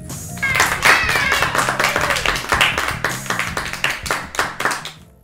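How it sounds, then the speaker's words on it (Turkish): A small group claps for two child magicians at a play circus, the claps distinct and rhythmic with a pulsing beat. Bright voices and cheerful chatter mix in, and the sound thins out at the end. "İki sihirbazlarımız Burhan ve İhsan için alkış."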